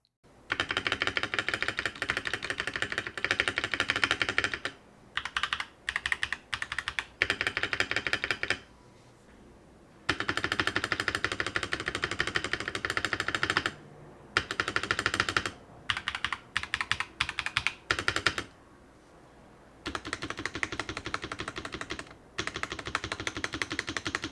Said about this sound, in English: this gives the spacebar a surprisingly quiet sound, which is meant to blend more evenly with your other keystrokes